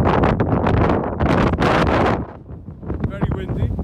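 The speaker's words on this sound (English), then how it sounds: "Very windy, but at least it's dry." Strong wind on the Anglesey coast batters the microphone in loud, gusty roaring bursts that ease after about two seconds, leaving a lighter rustle.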